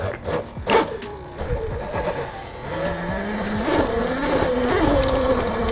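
A 13 kW, 84V electric dirt bike (pit bike) with a TruMoto controller rides and pulls up to park, its motor whine rising and falling in pitch at close range over crunching tyre and ground noise.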